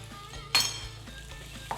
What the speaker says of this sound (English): Add my garlic and peppers to the pan.